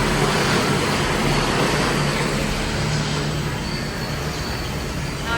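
A PMC 3000L homogenizing mixer running its mixing function at 40 RPM gives a steady, loud, broadband mechanical rumble and whoosh with a low hum, unbroken throughout and free of speech.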